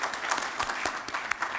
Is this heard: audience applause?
yes